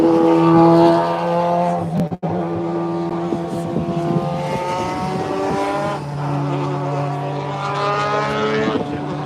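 A historic BMW racing car in Bastos livery roars past at Donington Park, its loud engine note held steady and then shifting pitch as it goes by, with a brief dropout midway and a sustained, strong drone throughout.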